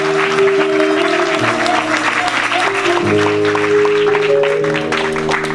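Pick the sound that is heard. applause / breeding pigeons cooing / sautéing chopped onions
applause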